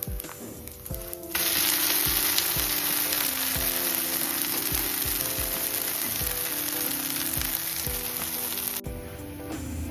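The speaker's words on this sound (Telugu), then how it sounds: "ఇది సిమ్లో పెట్టి నెమ్మదిగా కాలనివ్వాలి." Atukula pullattu, a rice-flake pancake, frying slowly on a pan over low heat, giving a steady close sizzle. Faint regular ticks and a tonal background hum sit under it, and there is no talk.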